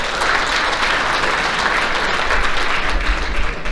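At a high school athletic banquet, an audience gives a round of applause: loud, dense, continuous clapping fills the room with a few low thumps near the end.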